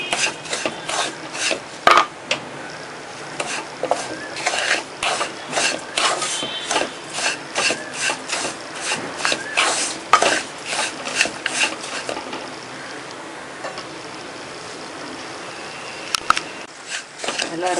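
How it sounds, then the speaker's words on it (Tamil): Semolina (rava) roasting in a pan for rava laddu, stirred steadily with a utensil that scrapes and rasps against the pan in a quick, repeated rhythm, close and fairly loud, with no talk. "நல்லா ரோஸ்ட் பண்ணிகிட்டே இருக்கணும்."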